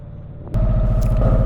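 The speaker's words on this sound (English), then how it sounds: "Now we have the engine clunking like mad." A canal boat engine running at high revs with a close, loud, rhythmic clunking that suddenly jumps in level and keeps a steady, consistent beat.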